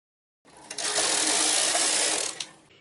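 A knitting machine carriage sweeps across a row of needles, a dense mechanical whirring rattle that starts abruptly, holds steady for about two seconds and trails off, close and alone.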